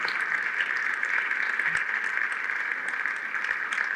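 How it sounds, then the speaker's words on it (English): An audience at a Cleveland Ward 7 State of the Ward event applauds honored guests with steady, sustained clapping that fills the hall at even strength throughout. "Keep clapping for them."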